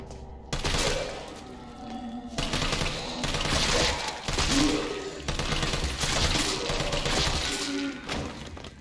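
Sustained bursts of gunfire in Resident Evil 3 Remake, dense rapid shots with brief pauses between volleys, loud and close, with a faint voice now and then.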